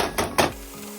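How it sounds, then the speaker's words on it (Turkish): Onions and pepper and tomato paste sizzle softly in oil in a pan. A utensil scrapes and clinks against the pan twice as the mix is stirred. "Kavrulan harcımızın içerisine yarım kaşık biber salçası ve yarım kaşık domates salçası ekleyip karıştırıyoruz."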